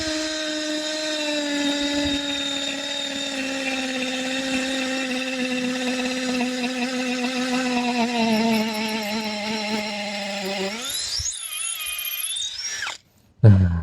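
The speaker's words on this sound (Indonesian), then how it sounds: "ngebor beton itu enak banget" A white Skoota 16.8V cordless drill bores into concrete with a steady, high-pitched motor whine that sags in pitch under heavy pressure, then revs briefly before cutting off near the end.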